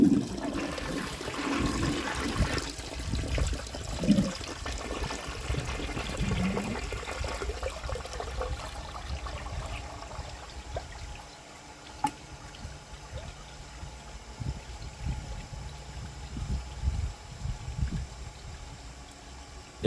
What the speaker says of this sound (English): All the water is draining out of the bowl pretty rapidly